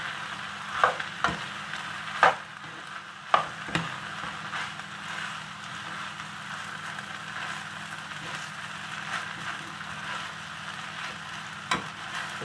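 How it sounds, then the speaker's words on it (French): Vegetables sauté in a frying pan for a rice and vegetable gratin, giving a steady soft sizzle with a few sharp scrapes and clinks of stirring early on. No one speaks. "Je laisse revenir bien."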